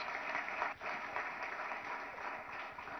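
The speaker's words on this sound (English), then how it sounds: "I think he deserves a huge round of applause." An audience at a state industry association annual meeting in a hotel applauds steadily, a faint, distant wash of clapping that continues without a break.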